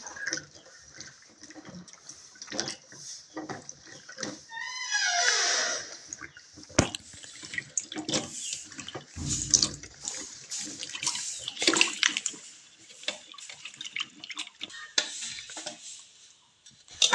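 Mangoes being washed by hand under running water at a sink, with splashing, trickling flow and occasional knocks of dishes, close and moderately loud throughout.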